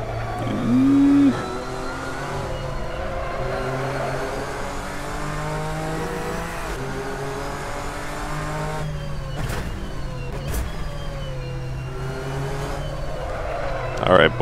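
Nissan GT-R GT3 race car engine in the Assetto Corsa racing game at Spa, sustained revving with rising gear sweeps and shifts, other cars passing, a brief squeal near the start.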